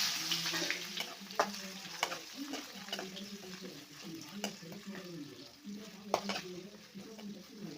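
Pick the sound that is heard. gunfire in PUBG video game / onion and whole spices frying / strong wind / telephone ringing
onion and whole spices frying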